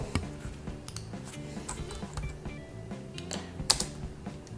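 Keys clatter on a computer keyboard as Ctrl+O is pressed to save a MySQL configuration file in a terminal text editor on a VPS server. Several light, close clicks are spread over a few seconds, with a slightly sharper tap near the end.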